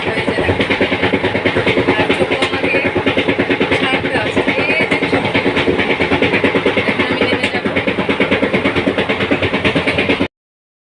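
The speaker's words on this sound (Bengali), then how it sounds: "যে আমার ট্রেন চলে গেল দেখো" A train rumbles past close by with a rapid, regular clatter of wheels over rail joints, loud and steady before cutting off abruptly.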